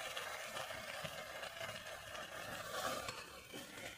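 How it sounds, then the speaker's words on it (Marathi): Village-style green eggplant fries on low heat in a pan, giving a quiet, continuous sizzle with soft stirring scrapes throughout and no voices. "हे फ्राय करून घ्यायचे वांगे चांगले."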